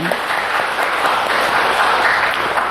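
A large church congregation applauding steadily and loudly during a Sunday service, a continuous wash of clapping with no pauses.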